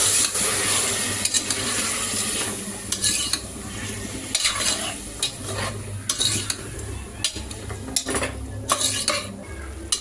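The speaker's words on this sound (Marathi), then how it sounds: "हे चांगलं आपल्याला परतून घ्यायचं आहे" Chicken being sautéed in a pan for yakhni pulao, with a steady sizzle and repeated scraping and clinking of a metal spoon against the pan, close and continuous with no talk.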